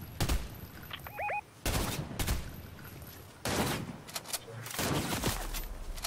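Gunfire in Fortnite: several loud, sharp bursts of shots separated by gaps, with some faint distant pops between them and no talking.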